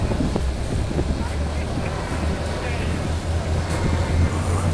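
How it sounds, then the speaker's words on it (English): Strong wind buffets the microphone outdoors beside the water, a loud continuous roar with gusty rumble, and faint voices come through underneath. "very windy out here"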